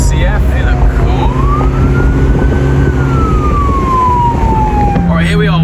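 A police escort siren leads a supercar rally convoy heading to a gala in Ras Al Khaimah. A loud, near wail rises and slowly falls over a steady engine rumble.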